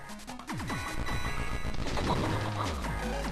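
Fiery explosions and crashes from the Mega Man Battle Network 6 video game sound as a dense, continuous barrage of blasts and bursts. The barrage is loud throughout, with a deep rumble building toward the end.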